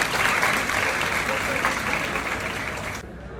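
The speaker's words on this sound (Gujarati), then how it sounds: "જોરદાર તાળી આપો." Engineering college students in a hall giving loud, dense applause, a sustained wash of many hands clapping that cuts off abruptly near the end, with voices underneath.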